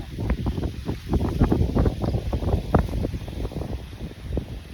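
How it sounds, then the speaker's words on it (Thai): Wind gusts buffet the microphone in low rumbling bursts, rising and falling unevenly throughout, with no one speaking, as a rainstorm approaches. "ลมเย็นโชยมาเลยนะพี่น้อง"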